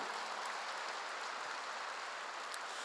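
Congregation applause during a Korean church sermon, a soft, steady patter of many hands clapping at a distance, faint and continuous with no talk.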